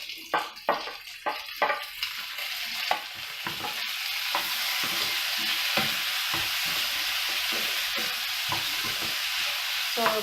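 Onions and tomato fry in a pan for coriander chutney, a spoon scraping and stirring in several quick strokes at first, then a steady close sizzle with occasional stirring clicks.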